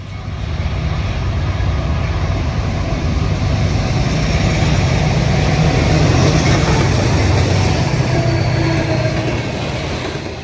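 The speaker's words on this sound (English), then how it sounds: "A mixed freight is eastbound through Andover," A mixed freight train rolls eastbound through Andover, Massachusetts, bound for Portland, with a loud, steady rumble and roar that fills the whole stretch without letting up. No one speaks.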